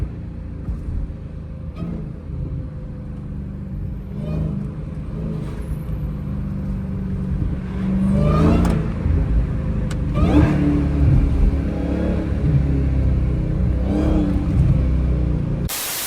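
A Dodge Charger Hellcat engine revs repeatedly in traffic, its loud, throaty bursts echoing off nearby buildings, with deep rumbling pulls and swells that grow stronger toward the middle.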